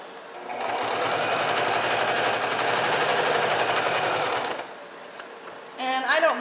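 A sewing machine stitches vellum on a scrapbook layout with a fast, steady needle chatter for about four seconds, then stops abruptly; a voice speaks briefly at the end.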